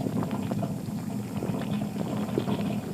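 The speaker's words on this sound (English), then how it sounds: "this is the noise of an ice volcano." A homemade ice volcano bubbles and fizzes like a rolling boil, a dense continuous churning with small pops, loud and close throughout with no voices.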